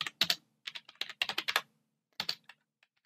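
Brisk keystrokes tap on a computer keyboard as an item code is typed into a Hurtworld server admin console. The clicks come close in quick clusters with a short pause between them.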